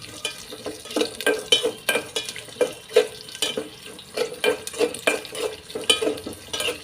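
Close, busy frying of a tempering for radish sambar over high heat: continuous sizzle broken by quick, irregular scrapes and taps of a utensil stirring in the pan, with no voices.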